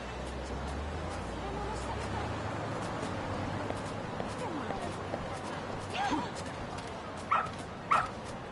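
A dog in the Lost Judgment video game gives a few short yips and barks near the end, fairly close, over a steady background bed.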